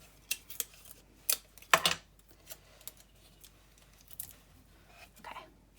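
Scissors snip through spare string at a small handmade flip-flop sign, a run of quiet, sharp clicks and cuts spaced irregularly, with one louder rustle in the middle.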